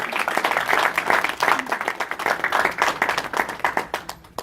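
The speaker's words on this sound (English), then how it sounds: "So I want to give everybody here a round of applause" A room of people claps for themselves at a community meeting, a lively, close round of applause with individual hand claps audible, fading slightly toward the end.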